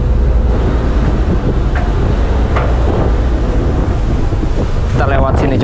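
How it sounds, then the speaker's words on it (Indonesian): Strong wind on a ship crossing from Bangka to Belitung buffets the microphone in a continuous loud roar, with faint voices briefly surfacing near the end. "Anginnya kencang banget."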